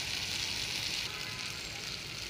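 Oil sizzles steadily in a pan while hilsa fish curry is cooked, a close, continuous hiss and crackle with no talk over it.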